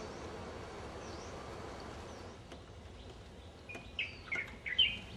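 Birds call at Mai Po wetland reserve in Hong Kong, a few thin chirps faint at first over a steady outdoor hum, then clearer, closer whistled notes near the end.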